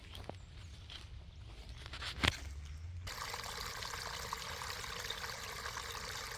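Rainwater trickles and drains beside a garden, a soft continuous watery wash that turns fuller and steadier partway through, with a few faint footsteps and a brief knock early on, no talk.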